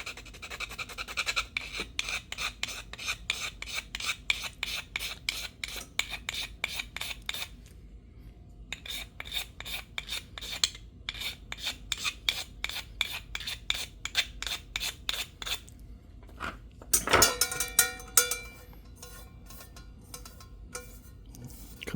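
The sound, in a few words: knife scraping a magnesium bar from a campfire kit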